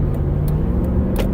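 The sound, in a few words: road traffic passing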